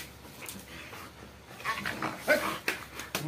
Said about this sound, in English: two dogs are engaged in a fight, with one dog vigorously biting the other.